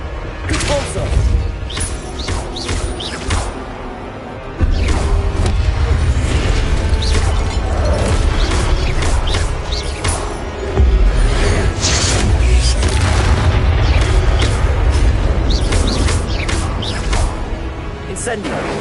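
In Hogwarts Legacy, a Repulsor spell is cast amid a loud, busy mix of game effects: a deep booming surge with clanking, mechanical rattles and crashes layered over roughly nineteen seconds.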